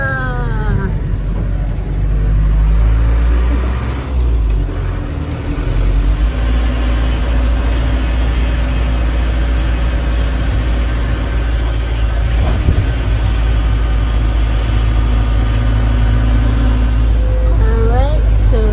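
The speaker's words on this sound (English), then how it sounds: "Alright, so now we're going to turn the bus around." A local bus in Shkodër, Albania, turns around and drives off, its engine a loud, steady low rumble with shifting tones as it moves, while a voice talks over it.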